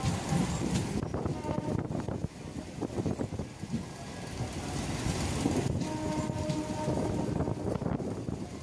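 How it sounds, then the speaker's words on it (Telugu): Rumbling rail noise of a train moving nearby at Pakala Junction, with rolling wheels and wind-like roar sustained throughout, no talking. "పాకాల జంక్షన్లో ఏదో ట్రైన్ ఉంది, చూద్దాం ఏం ట్రైను."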